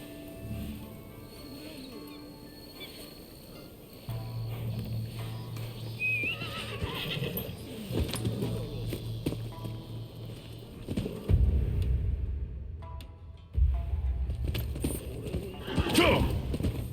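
Horses neighing and hoofbeats clip-clopping in the Rise of the Ronin video game, with a loud whinny, rumbling movement and game voices talking over the scene.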